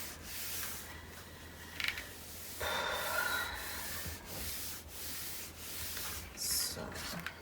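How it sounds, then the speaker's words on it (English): Paper being rubbed down onto the cover of a handmade wedding mini album, a soft, close rubbing and scuffing in short strokes at low volume, with no talking. "then I will burnish this down"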